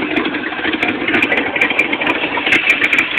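An Oldsmobile Cutlass Supreme Brougham's 350 V8 idles steadily through its exhaust pipes, a loud, close, continuous rumble with a slight rattle and no talk over it.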